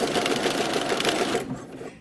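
A sewing machine runs a basting line through the seam allowance of a sleeve cap, whirring steadily at speed, then slowing and stopping near the end.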